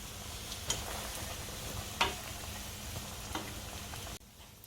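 Steady crackling sizzle of hot dogs frying in hot oil, with a few louder pops and ticks scattered through, before it drops off near the end.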